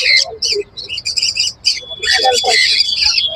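Conures and cockatiels at the Baguiati bird market in Kolkata chirp and squawk loudly and close by, a dense run of overlapping shrill calls with only short pauses.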